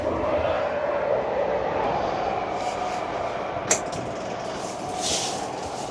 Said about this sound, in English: So I haven't started the tractor in like 3 months.